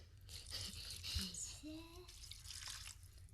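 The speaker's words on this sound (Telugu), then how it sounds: "ఇప్పుడు వచ్చేసి వాటర్ వేసుకుంటున్నాను." Water poured into a pot of lentils with a little oil for pressure-cooker cooking, a soft continuous splashing and trickling close by, steady and fairly quiet throughout.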